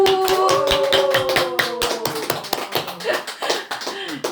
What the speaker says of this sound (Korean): 환호성을 크게 박수를 치면서 환호성을 울리고